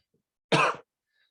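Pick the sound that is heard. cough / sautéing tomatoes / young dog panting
cough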